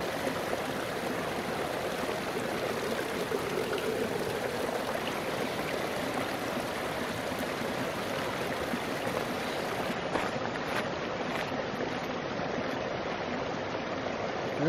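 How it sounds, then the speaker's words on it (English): Flowing salmon river in the Scottish Highlands, a steady broadband rush of water close by, constant and loud throughout with no talking. "Lovely salmon river."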